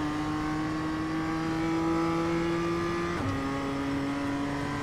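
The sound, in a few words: BMW M2 engine revving with quick gear changes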